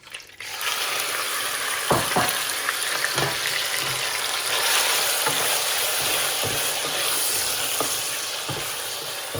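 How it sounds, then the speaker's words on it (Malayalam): Chicken for fried rice sizzles steadily in hot oil in a pan, a continuous close frying hiss broken by occasional scrapes and knocks of a stirring utensil. "ഇനി നമുക്ക് ഈ ഓയിൽ തന്നെ നമ്മുടെ ഫ്രൈഡ് റൈസിനുള്ള ചിക്കൻ ഒന്ന് സോട്ട് ചെയ്തെടുക്കാം"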